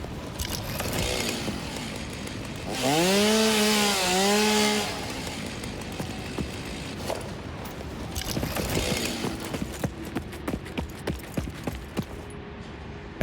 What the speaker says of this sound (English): Do I not have my chainsaw equipped anymore?